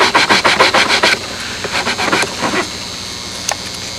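Abrasive sanding on an anodized aluminum part of a Windy Seafire model boat, taking off the blue decorative anodizing: a run of quick, rhythmic scraping strokes up close, then scattered lighter rubs and a small click near the end.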